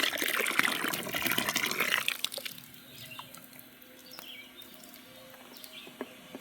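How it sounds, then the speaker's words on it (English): Rit DyeMore synthetic dye liquid poured into water for dyeing a tent rainfly: a loud, steady gushing pour for about two seconds, then quieter trickles and small splashes in a room with a faint hum. "I am going to take and shake this up and pour this in now."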